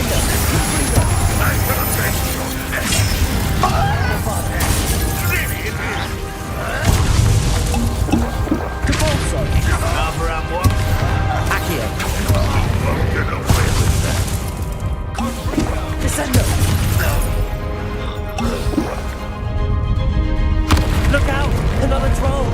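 Confringo blasting curses explode during a Hogwarts Legacy battle against loyalists, loud booms and crashes layered with whooshing spell effects and shouting voices throughout.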